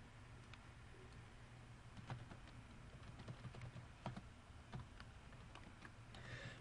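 Quick, uneven keystrokes on a computer keyboard as a network command is entered, the clicks close and fairly soft over a steady low room hum, with no talking.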